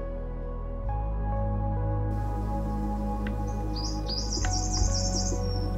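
A Western Tragopan calling in the western Himalaya: a short series of high, rapidly repeated piping notes near the end, preceded by brief faint chirps over a steady low hum.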